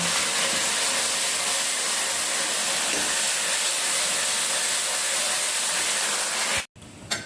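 Onions and cumin fry in a pan with a steady, loud, close sizzling hiss that continues unbroken before cutting off abruptly near the end.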